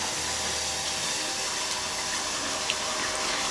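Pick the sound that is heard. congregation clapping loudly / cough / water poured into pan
water poured into pan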